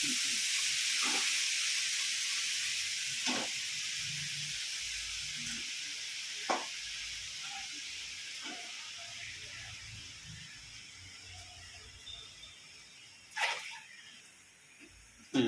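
Siru keerai greens hiss and sizzle in a hot pan, a steady bright frying hiss that slowly fades, dotted with a few soft clinks and brief faint sounds.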